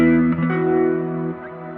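An electric guitar verse tone played through a Kemper Profiler with ionosphere reverb: a short sustained chord that shifts once partway and rings out with a smooth reverb tail, alone and fairly loud.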